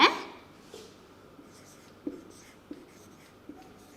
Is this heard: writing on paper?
yes